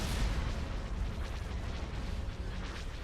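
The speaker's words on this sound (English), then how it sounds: "Firing turbo lasers" Turbolaser fire in a Star Wars space battle game rumbles as a dense, loud barrage of deep booms and bursts, heavy and continuous with no talk.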